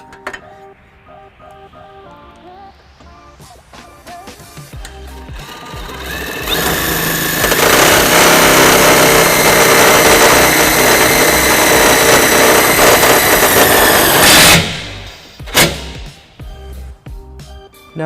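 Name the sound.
power tool with 13mm socket driving self-tapping screws into bumper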